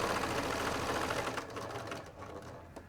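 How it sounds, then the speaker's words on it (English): A sewing machine stitches piping onto a box cushion cover, a fast, steady mechanical chatter heard up close that gradually softens and slows toward the end. "I'm going to stitch to within 6 centimetres of the start of the piping."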